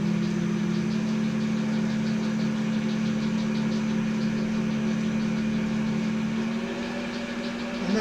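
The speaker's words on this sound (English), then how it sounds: "So I'm going to switch it on, start machining." A lathe machining at higher revolutions with a variable speed controller, a steady close motor hum with a strong low drone and faint rhythmic ticking, running continuously and easing slightly near the end.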